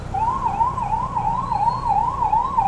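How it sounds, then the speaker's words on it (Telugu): A police car siren wails in slow, regular up-and-down sweeps through Hyderabad traffic, loud and close, with a low road rumble beneath and no voices. "మామ సైరన్ ఆన్ చేసిండు"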